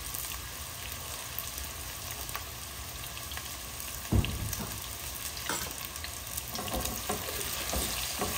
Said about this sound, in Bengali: আমি আলুগুলাকে কড়া করে ভাজবো না।